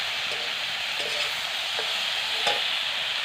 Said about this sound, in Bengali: এখানে আলু পেঁয়াজগুলো ভাজা ভাজা হয়ে গেছে